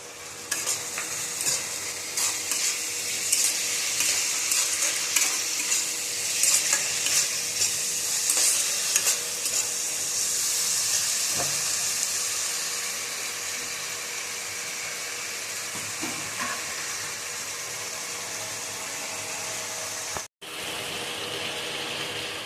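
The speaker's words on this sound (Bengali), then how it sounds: "আমি এবার এটাকে ভালো করে নেড়ে চেড়ে নিচ্ছি, একদম হালকাভাবে নেড়ে চেড়ে নিচ্ছি।" Mixed fried rice with prawns, egg and fried meat being stirred in a hot pan, a steady sizzle with scraping and tossing running throughout, close and fairly loud, briefly cutting out near the end.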